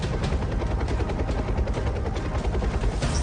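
An Indian Air Force Chinook helicopter flies overhead near the Line of Control, its rotors giving a loud, steady, rapid thumping chop for a few seconds with no voices.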